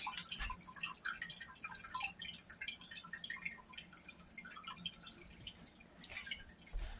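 Small hands are washed with foamy soap under running water, giving soft irregular drips, splashes and wet rubbing at close range.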